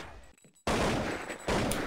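Counter-Strike gunfire on de_mirage during a competitive match, with a quick loud burst of shots after a brief lull, sharp and close, followed by another burst near the end.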